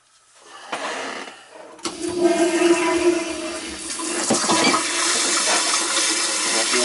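A Sloan flushometer on a small toilet flushes with a sharp click and then a loud, close rush of water that keeps pouring and hissing steadily to the end.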